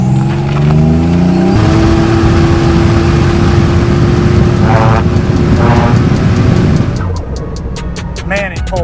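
A 1987 Buick T-Type with performance mods accelerating hard, its engine roaring loud and steady close by, rising in pitch through the pull before easing off near the end.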